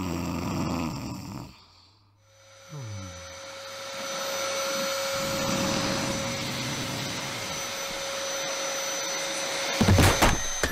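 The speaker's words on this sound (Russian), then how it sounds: "Мать пылесосит с самого утра" A household vacuum cleaner runs steadily and loud at close range, a continuous whining drone with a brief dip near the start before it surges back to full power.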